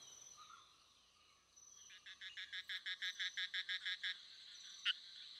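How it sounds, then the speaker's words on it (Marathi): Male frogs calling at night in forest streams of Kolhapur during the breeding season: a rapid run of about a dozen evenly spaced, pulsed croaks rising to a steady chorus, with fainter insect-like background trilling and a single sharper note near the end. "बेडकांच्या प्रजनन काळात या झऱ्यांमध्ये नर बेडकांचे आवाज रात्रीच्या निरव शांततेत माद्यांना आकर्षित करतात."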